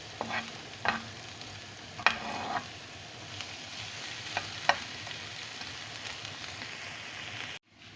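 Onions sautéing softly in a pan over low heat, with a few sharp scrapes and clicks of a utensil stirring them.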